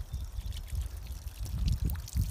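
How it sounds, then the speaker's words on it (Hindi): Cold spring water runs off a wooden strip in a forest campsite near Shimla, making a close, uneven trickle and splash with soft low pulses. "लकड़ी की एक पट्टी उससे पानी आ रहा है ऊपर से"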